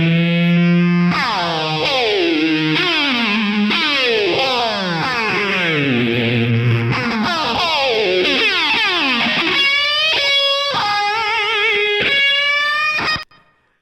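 Electric guitar runs through Neural DSP's Archetype effects, with heavily processed, distorted tones that sweep and bend up and down in pitch like a whammy effect, then switch to choppy stuttering notes before cutting off.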